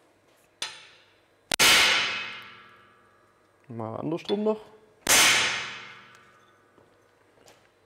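A hammer strikes a hardened steel workpiece during a hardness test in a workshop, three sharp ringing metallic blows with long decaying tails, separated by a brief rattling clatter, while a voice briefly speaks.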